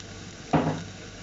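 Finely chopped garlic drops into hot oil in a pan and bursts into a sudden sizzle that fades over the next moment after a quiet start.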